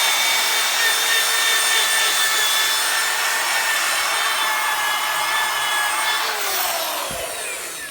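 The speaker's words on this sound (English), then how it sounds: "Just let the drill do the work." An electric drill fitted with a sponge attachment polishes a plastic car headlight, giving a continuous loud whirring hum with a high rubbing hiss that holds steady and then winds down at the end.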